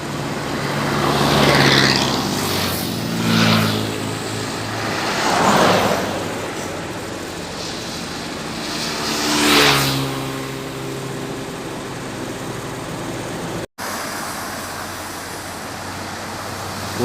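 A large Mercedes-Benz bus engine drones nearby as vehicles pass in several swelling whooshes, with steady road noise between them.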